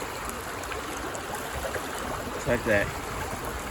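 Water running and trickling down a gold sluice over ripples after big rocks are removed, a steady close wash with a brief gurgling splash near the end, someone speaking briefly over it.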